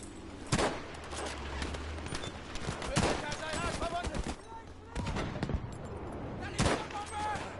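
Gunfire in the video game Battlefield V, repeated sharp shots and rapid bursts with booming explosions, dense and loud throughout, with a player talking over the action.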